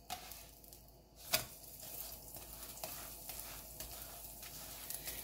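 A paneer paratha fries in ghee on high heat, giving a faint, steady sizzle with a sharp scrape of a utensil and soft intermittent crackles.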